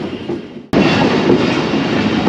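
The 9UP Allama Iqbal Express train rolls into Kot Lakhpat station, a Lahore sub-station, with a loud, steady rumble and clatter of wagons close by after a sudden onset, continuous with no talk.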